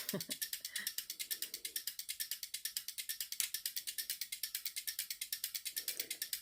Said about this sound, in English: The relays make different sounds. It's really interesting. Some are sort of more clicky than others.